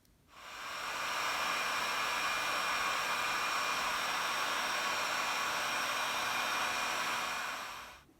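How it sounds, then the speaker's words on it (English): A heat gun blows on heat-shrink tubing over soldered wires with a loud, steady, close airy hiss that starts abruptly, holds for about seven seconds and then cuts off. "pick the right shrink tube, cut it in half and slip it on, then heat gun it"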